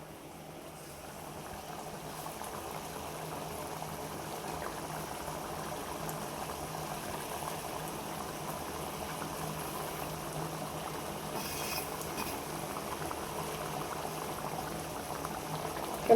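Lentil dumplings simmer in a pot of boiling liquid, giving a steady, continuous bubbling and seething that holds at an even level throughout with no voices.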